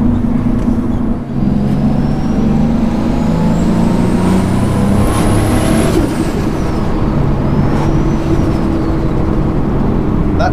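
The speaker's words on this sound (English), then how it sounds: "That turbo just sounds so amazing." A turbocharged street car with a twin-plate clutch roars steadily with turbo whine and whooshing spool sounds rising and falling, loud and close, with road noise throughout.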